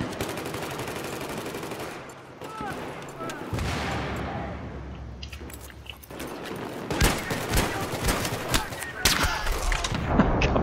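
Gunfire in Battlefield 3 on the Markaz Monolith map in Scavenger mode, with a pistol among the weapons: sharp shots and rattling bursts, some dense and close, amid game ambience and explosions.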